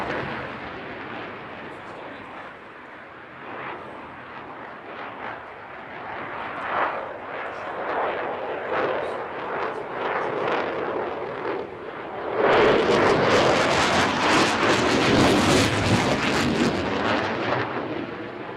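A Danish F-16 fighter jet in a flying display at Farnborough roars in a broad, rumbling pass that swells and surges louder near the end, with crackling jet noise rolling across the airfield.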